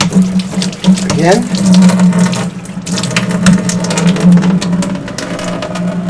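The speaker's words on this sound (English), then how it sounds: "And rinse off my hands." Running kitchen tap water splashes over hands being rinsed, a steady close rush with a brief spoken word over it.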